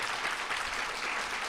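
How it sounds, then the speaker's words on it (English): A crowd gives a brief burst of applause at the 4th Annual STEMmys Awards ceremony. The clapping is continuous and fills the short moment evenly. "So please give a round of applause for my mother."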